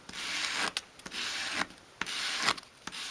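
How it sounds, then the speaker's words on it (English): Small wooden dollhouse-scale kitchen piece having its corners rounded by rubbing against a sheet of sandpaper: several close, loud scratchy sanding strokes in bursts with brief pauses between them, no talking. "I then want to round off each corner, so I can do that against my sheet of sandpaper"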